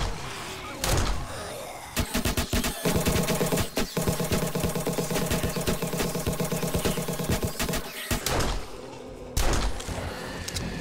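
Junk turret in 7 Days to Die firing during a Blood Moon horde attack, a loud, sustained rapid burst of automatic shots lasting several seconds, bracketed by single heavy bangs.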